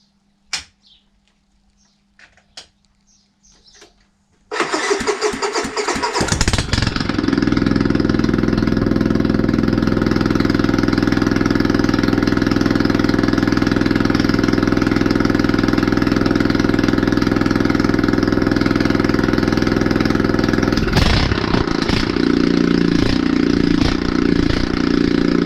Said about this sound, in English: take the exhaust off and run it with no exhaust